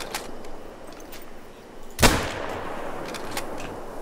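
A rifle shot fired at a female moose while hunting in a wilderness game, one sharp loud crack about midway through, set against quiet ambient background with faint scattered sounds before and after.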